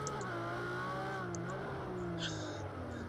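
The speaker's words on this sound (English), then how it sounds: "Ferrari sounds so angry" A Ferrari racing car in the Project Cars 2 video game hums with an aggressive engine note that shifts in pitch as it drives through corners. The sound is steady and fairly quiet, with a few short high chirps.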